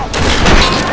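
A shotgun blast in the Tomb Raider video game, one loud, close, broad boom filling the short moment.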